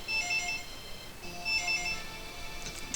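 A telephone rings in the living room in the video game Dragonball Z: Legacy of Goku 2. It gives two repeated electronic ring bursts, clear and steady, with no voices.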